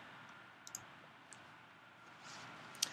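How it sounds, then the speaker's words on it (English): A computer mouse clicks a button on screen, giving a few faint, sharp clicks spread across a quiet stretch, with the crispest click coming near the end. "Let's click on the button for now."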